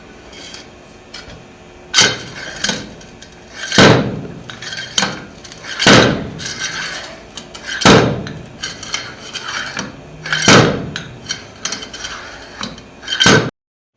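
A 5.5 pound compaction hammer drops 12 inches onto soil in a mould during a standard compaction test. Six loud, sharp metallic thuds land about every two seconds, each ringing briefly, with clinks and handling noise between them.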